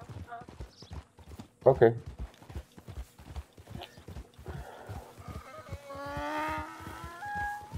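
Donkey hooves clip-clopping in Red Dead Online, a rhythmic trot under loud excited chatter, with a sharp thud partway through and background game music rising near the end.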